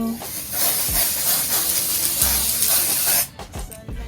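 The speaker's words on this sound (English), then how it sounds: "I'm just gonna spray it like so" A steady, close aerosol spray of lace tint onto a wig hisses for about three seconds, then stops, followed by a few soft taps.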